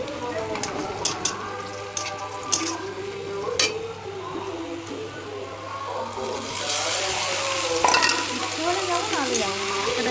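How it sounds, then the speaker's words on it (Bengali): Ginger and garlic frying in a home kitchen pan, a steady sizzle with splattering pops and spoon stirring throughout, growing louder toward the end, with faint voices in the background. "একটা আদা দিলে এত ছিটে আসে"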